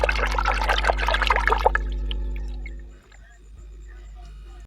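Mushrooms are washed in water in a home kitchen for a Chhattisgarhi curry, with sloshing and splashing for a couple of seconds, then a quieter trickle and drip against a low steady hum.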